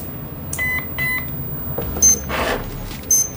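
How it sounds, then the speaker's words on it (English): Electronic beeps from a battlebot prototype circuit sound in short bursts, a few tones in sequence with brief pauses between them, then a couple more chirps near the end. "Let me get some beeping."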